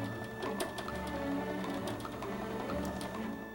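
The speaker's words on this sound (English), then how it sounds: "And here's the sound of a chain drive." A chain-drive garage door opener gives a quiet mechanical whir with rapid rattling clicks and a steady tone, like a chain grinding along as a motor runs.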